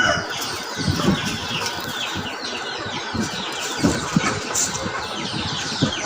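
Chickens, native country hens, cluck and flap their wings as they come out of the coop in the morning, with scattered bursts of wingbeats over a steady background rumble.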